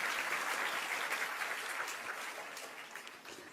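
An audience applauding at a religious discourse in Jabalpur, a dense sustained burst of clapping that gradually tapers off toward the end.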